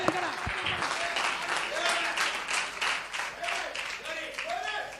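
A congregation applauds at an evening church gathering, a dense wash of clapping lasting throughout, with voices and shouts from the crowd mixed in.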